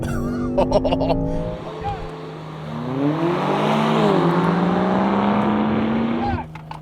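A powerful SUV engine roars and revs as it launches hard in a drag race against a Rolls-Royce Cullinan, the pitch climbing through gear changes, loud and close, with brief voices at the start.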